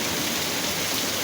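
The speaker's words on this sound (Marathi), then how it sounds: "एकदम खतरनाक पाऊस आहे" Heavy monsoon rain pouring down in a village, a dense, loud and continuous roar of falling water with no pauses.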